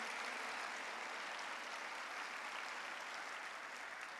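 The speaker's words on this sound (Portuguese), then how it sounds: "Pode aplaudir ao Senhor mesmo." A church congregation at a Sunday service applauds the Lord, a continuous dense wash of many hands clapping, steady and even throughout, heard somewhat distant and quiet.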